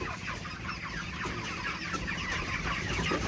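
Broiler chickens about 28 days old clucking together in a pen, a dense continuous chorus of overlapping clucks and chirps close by, with no voices over it.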